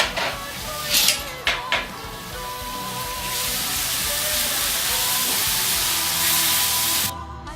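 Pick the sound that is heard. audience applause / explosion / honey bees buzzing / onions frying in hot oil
onions frying in hot oil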